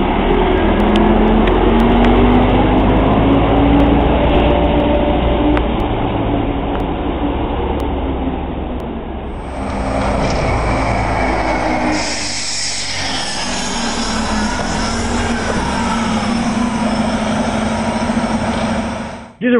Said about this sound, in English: And some of these Orion 5s moaned as well.